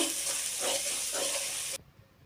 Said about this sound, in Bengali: এটাকে আমি তেলের মধ্যে মশলাটাকে ভালো করে কষিয়ে নিব